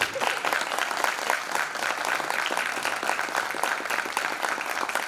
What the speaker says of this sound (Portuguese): Se vocês gostaram, vocês podem aplaudir.